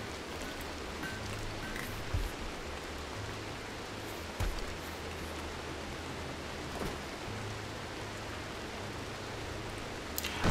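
Steady rain hisses throughout a RimWorld game, an even, soft wash of noise with a few faint knocks on top.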